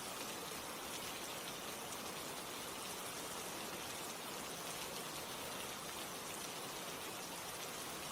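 Steady rain falls in a soft, even hiss that stays constant and fairly faint throughout, with no voices or other sounds breaking through.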